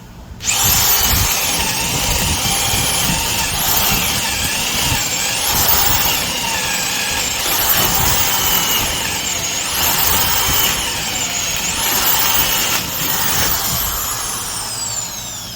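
A Freud T10 3/8-inch corded drill with a 1-inch (25 mm) spade bit whines through repeated bursts of boring, its pitch rising and falling with each push, close and loud.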